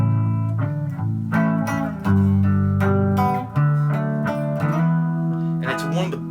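A band recording of an instrumental groove plays steadily at full level, with sustained harmonic layers, a repeating bass figure and brief dips between phrases.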